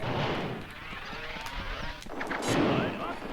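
Gunfire in the video game MediEvil, in the Vile Village level: muffled blasts and shots thud in bursts beneath continuous speech, with one louder burst near the end.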